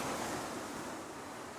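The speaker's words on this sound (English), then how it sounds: "take in the sounds out here, the ocean waves, so beautiful, so relaxing, so serene" Ocean waves wash steadily onto Eagle Beach in Aruba, a continuous broadband surf roar at moderate distance with some wind noise on the microphone, unbroken and without voices.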